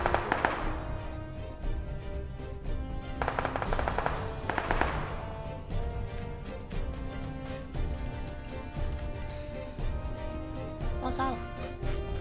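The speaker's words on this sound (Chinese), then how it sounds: "爆炸" Explosions and bursts of gunfire in the battle-royale video game PUBG, with repeated sharp cracks and blasts over a busy game soundtrack, and voices talking alongside.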